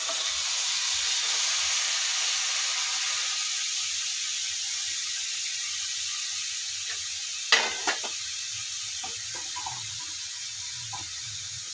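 Raw mango pieces hit melting sugar in a hot wok, giving a steady soft sizzle and hiss throughout, with a few sharp clinks and stirring knocks partway through and no talking.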